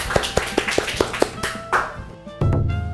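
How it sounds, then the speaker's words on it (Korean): A short burst of sharp, evenly spaced hand claps, close and loud, fading out before a low hum takes over at the end. "우리 다 같이 박수 한번."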